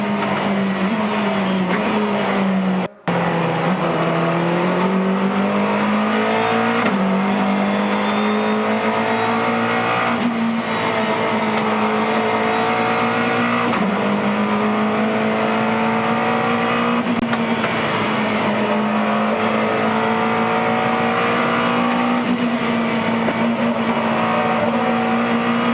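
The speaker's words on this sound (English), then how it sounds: "Listen how he works the throttle on the McLaren." A McLaren race car powers through Griffin's Bend at Bathurst during the 2014 12 Hour. The engine howl rises and dips as the throttle is worked, and a brief sharp gap marks a quick lift or shift.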